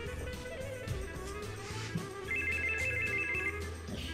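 A telephone's ringtone trills again and again in a domestic room, sounding clear and fairly close above a low murmuring background, with no speech.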